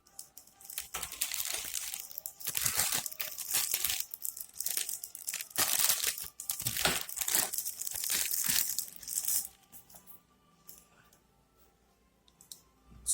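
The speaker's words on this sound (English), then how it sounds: "Now let's quickly open the box." A Poke Ball Plus product box is opened up close, with crinkling, tearing and rustling of packaging for several seconds before the handling quiets to a few soft clicks and shuffles.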